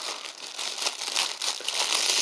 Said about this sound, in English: plastic bags.